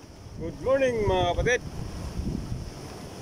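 Strong seaside wind roars and buffets the microphone at the shore in the Philippines as Typhoon Maring passes, with surf churning underneath while someone speaks a greeting over it.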